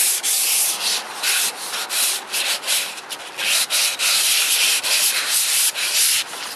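Fiberglass rocket body tube for a custom Sky Digger build being scuffed by hand with abrasive, a loud rhythmic series of close rasping strokes with brief pauses between them.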